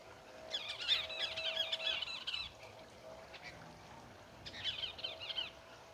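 Outdoor parakeets give shrill, chattering calls in two bursts separated by a short lull, heard at a moderate distance against faint background noise.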